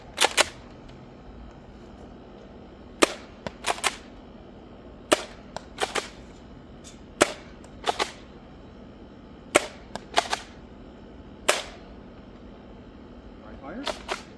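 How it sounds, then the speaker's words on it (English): Nerf Rival Roundhouse spring-powered toy blaster with a revolving carousel breech firing a series of sharp, loud snapping shots, single and paired, spaced a second or two apart, with faint handling noise between. "Next up is the Nerf Rival Roundhouse."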